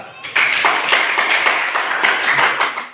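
Classroom applause as students clap together after a group presentation, a dense run of brisk claps that starts abruptly and continues steadily, fairly close and loud.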